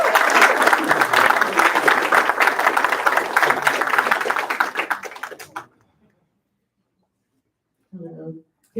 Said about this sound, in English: If you could please give her a round of applause for coming up.